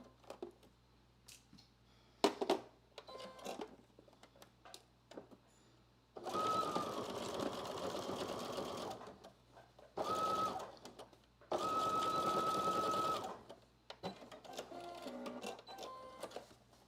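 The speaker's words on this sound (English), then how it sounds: "I'm going to, of course, sew using 5/8 of an inch seam allowance" A home sewing machine stitching seams on muslin at 5/8-inch seam allowance, running in three bursts of steady motor whir separated by quiet pauses with light handling clicks and rustles, fairly faint.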